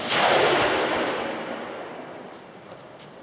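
A single loud, close rifle shot from a .308 fitted with a TE Terminator muzzle brake, a sharp crack followed by a long decaying outdoor echo.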